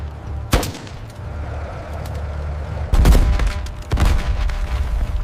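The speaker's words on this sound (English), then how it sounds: "Explosions rock the hull." Dramatized gunfire and explosions strike the hull of a Soviet tank, with a loud sharp crack followed by heavy rumbling blasts and further impacts over a steady low-frequency battle drone.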